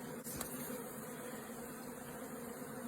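Worker honey bees buzz steadily inside an open hive, a dense continuous drone close by with one brief knock near the start and no talking.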